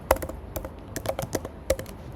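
Fingers tap out a short, uneven burst of keystrokes on a computer keyboard, crisp and close with brief pauses between clicks.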